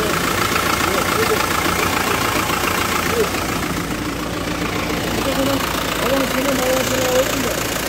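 Fiat Doblo 1.9 diesel engine idling after a piston rebuild, a steady close mechanical rumble running throughout with faint higher tonal whine in the second half.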